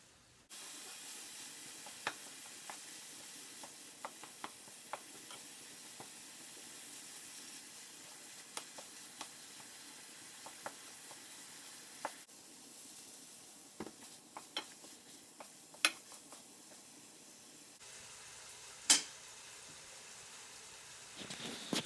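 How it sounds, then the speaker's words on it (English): Ground beef browning in a frying pan over medium-high heat, a steady close sizzle running throughout with occasional scrapes and ticks from stirring. "Put that in the frying pan, turn the heat to medium high, and we'll start browning that meat."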